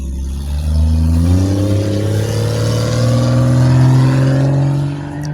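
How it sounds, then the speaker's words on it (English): A car engine revs loudly and steadily nearby, its pitch rising and holding as the vehicle passes, with no voices over it. "Let me let this car go by real quick. Lord knows he want to rev his engine."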